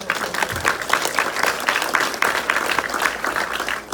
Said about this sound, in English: a huge round of applause for... Thank you guys again